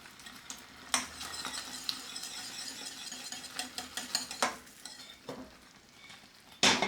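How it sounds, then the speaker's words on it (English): Three-quarters of a cup of butter whisked in a hot pan on a flame for caramel, with a steady soft sizzle and scraping stir, broken by a few sharp metallic clinks of the whisk against the pan. "I have 3/4 cups of butter. We're going to add in and whisk it."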